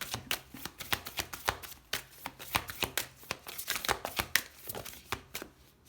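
A lunology oracle card deck being shuffled and a card drawn, a rapid run of crisp papery flicks and riffles, close and fairly quiet, with no voice.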